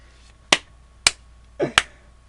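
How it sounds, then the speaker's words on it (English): Three sharp, isolated hand claps spaced about half a second apart, close and dry in a quiet room, with a faint extra rustle just before the last one. "I'm clapping"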